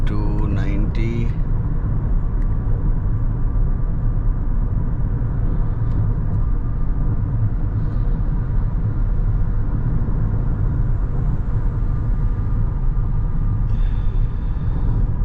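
Steady broadband road and engine rumble inside a Lexus NX350h hybrid cruising on the highway at 90 with its CVT, loud and constant throughout, with a brief burst of higher sounds at the very start.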